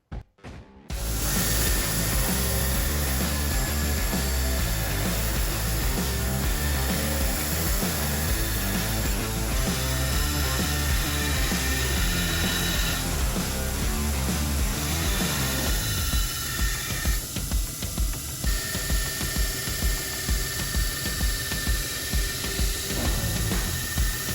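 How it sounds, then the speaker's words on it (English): A belt sander grinds hardened and tempered Damascus dagger blades, a loud steady mechanical whine with a strong motor drone that shifts into a rhythmic pulsing texture partway through as the blade is worked against the belt. "I can start to shape them on the belt sander."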